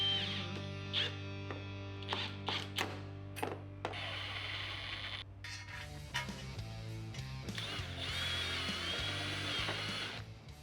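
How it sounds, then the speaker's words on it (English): A power tool fastens quarter-inch bolts joining crossbars to 47-inch rails on a Vantech H2.1 aluminum bolt-on cargo rack for a work van, with short repeated whirring bursts, metallic clicks and clanks, and a longer whir near the end. "we will start by fastening the crossbars to each of the 47-inch cargo rails using the 1/4 by 1 inch bolts"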